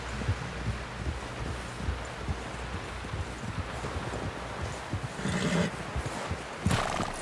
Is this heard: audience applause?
no